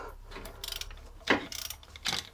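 A ratchet wrench loosens a bolt on a Hemi engine during piston removal, giving a few short bursts of close mechanical clicking with two sharper clacks, in a quiet workshop.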